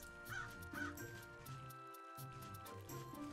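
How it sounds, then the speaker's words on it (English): Crows cawing in the Serin Fate video game, a few short caws near the start over a faint, steady ambient game soundscape. "Oh, there are crows up there."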